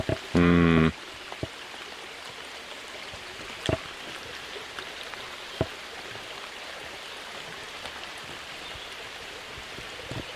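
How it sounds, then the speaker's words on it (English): A natural brook babbles in a constant soft wash of flowing water, with a short electronic tone at the very start and a few faint knocks scattered over the steady stream. "Babbling brook, huh?"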